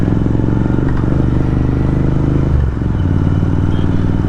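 A Continental GT motorcycle fitted with aftermarket Thrive exhausts rumbles loudly and steadily at close range, with a deep throbbing idle and a brief dip in engine note partway through.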